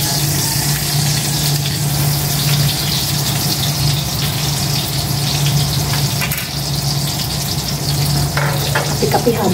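Embutido sizzles and crackles loudly in a hot frying pan, a continuous close frying sound with no talking.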